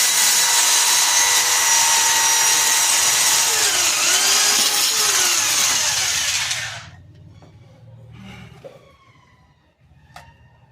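A power drill boring a hole in a hydroponic pipe, a loud, high whining grind that runs steadily for several seconds and then stops abruptly, followed by a few faint handling clicks and knocks.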